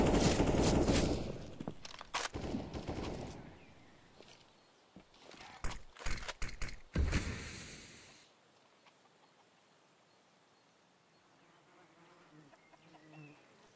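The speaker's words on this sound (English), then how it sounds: "Flashbang's gonna come in." Counter-Strike gunfire during an esports match on Inferno, heard as loud bursts of rapid shots and sharp cracks that come in clusters early on, then give way to quiet background.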